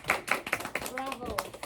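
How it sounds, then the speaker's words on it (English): A few quick, scattered claps ring out at an office meeting in a US company, fading as a voice starts talking over the tail end. "Round of applause."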